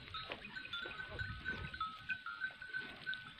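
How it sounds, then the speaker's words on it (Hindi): Goats at a rural farm or pasture, with bleating or animal calls faintly mixed into steady outdoor background noise and some rustling; no voices. "तो ये बकरियाँ हैं माशाल्लाह।"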